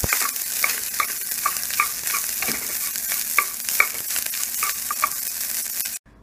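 Cooked rice tossed with grated coconut and salt in a pan, repeated spatula scrapes and clacks in a loose rhythm over a light sizzle, close and fairly loud, ending abruptly.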